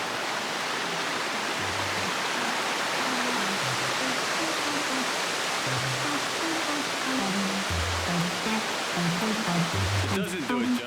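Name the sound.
waterfall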